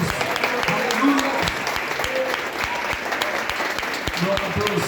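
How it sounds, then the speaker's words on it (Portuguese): A church congregation claps loudly and steadily throughout, a dense, continuous applause with a few voices calling out over it. "Dê uma salva de palmas bem forte para Jesus."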